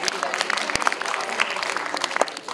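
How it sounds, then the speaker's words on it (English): Audience applause at a student conference rises in a dense, steady patter of many hands, fairly close, with a few sharper claps standing out and voices mixed in underneath. "with a great round of applause, please welcome this zitty girl from Music World onto the stage"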